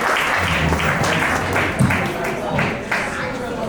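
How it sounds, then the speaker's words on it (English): An audience claps after a talk, with a broad, uneven round of applause and individual hand claps standing out, while a voice speaks over it. "Give yourself some round of applause."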